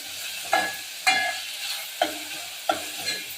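Onions frying in oil with mustard seeds in a pan, a soft continuous sizzle broken by four distinct spatula scrapes and stirs spaced about half a second to a second apart, close and without speech.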